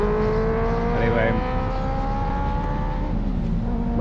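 A motorcycle engine drones steadily during a test ride, rising and falling in pitch as it revs, with a voice speaking over it.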